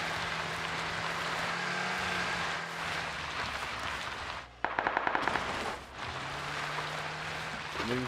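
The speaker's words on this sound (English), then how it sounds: "New shots came straight ahead from the vehicle, 175." Gunfire in the video game Arc Raiders, a short rapid burst of several shots near the middle, set against steady in-game ambient noise.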